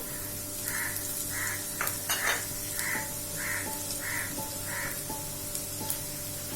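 Small onions sizzle in a hot pan as they are stirred, a steady frying hiss broken by spatula scrapes and clinks, with a crow cawing repeatedly in the background and no talk.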